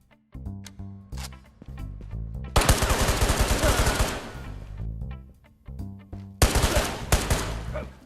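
Bursts of rapid automatic gunfire in the video game TABOR, two loud sustained volleys over a melodic music backing, with quieter music-only stretches between them.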